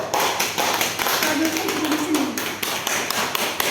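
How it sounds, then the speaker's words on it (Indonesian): A classroom of pupils claps hands together in a dense, continuous patter during a teaching session, with voices speaking over the clapping. "Tepuk tangan dulu."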